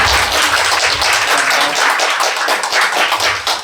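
A church congregation claps loudly and steadily to welcome a missionary to the pulpit, a dense crowd applause filling the room with no talk over it.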